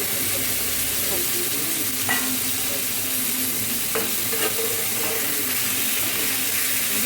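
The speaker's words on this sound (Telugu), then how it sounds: "ఇప్పుడు మనం చికెన్ వేసుకుందాం" Chicken marinated with salt, chili powder, turmeric and ginger-garlic fries in a hot pan, a loud, continuous close sizzle with occasional stirring scrapes and no talking.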